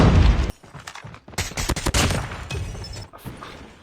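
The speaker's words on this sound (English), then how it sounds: "I felt like I heard some shots here" Gunfire in the mobile shooter game Call of Duty Mobile: a loud opening burst of shots, then a quieter stretch and more clustered reports through the middle, with several sharp cracks near the end, no talk.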